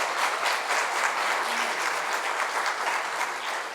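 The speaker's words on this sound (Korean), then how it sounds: "우리 이성희 목사님 위해서 박수로 축복하겠습니다." A church congregation applauds during a deacons' dedication worship service, a dense, steady wash of many hands clapping that holds evenly for the whole stretch with no voices over it.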